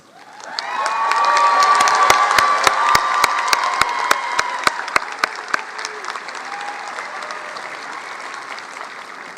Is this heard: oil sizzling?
no